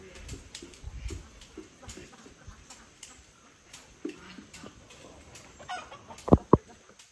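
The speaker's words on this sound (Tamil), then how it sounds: "புஷ்பா கோழியை கூட்டிகிட்டு வருது பாரு" Faint chicken clucks in a quiet outdoor setting, followed near the end by two sharp knocks.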